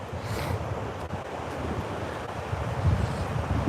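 Strong, blustery wind buffets the microphone at a cold beach, with surf washing and breaking underneath in a dense, continuous roar that swells slightly toward the end.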